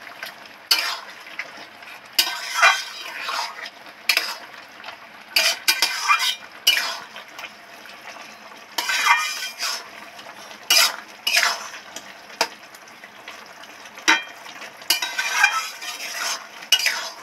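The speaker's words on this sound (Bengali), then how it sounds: "পোস্তটা এবার নেড়ে চেড়ে সব মশলার সাথে, সব সবজির সাথে ভালো করে মিশিয়ে দেবো।" Poppy seed paste is stirred together with spices and chopped snake gourd in a pan, giving repeated scraping and clinking of a utensil against metal in uneven bursts, fairly close, with no talking.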